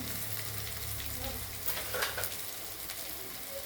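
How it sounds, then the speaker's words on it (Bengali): Tomato and chopped onion fry in a pan for chicken curry over a low gas flame, a steady close sizzle broken by a few scraping stirs. "এখন টমেটোটা ভাজা হচ্ছে তো দেখুন পেঁয়াজটা অনেকটা গলে এসছে"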